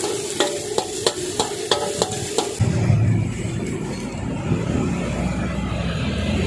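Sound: stir-frying catfish larb in a pan

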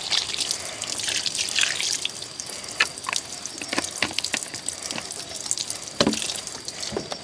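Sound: washing a container under running water

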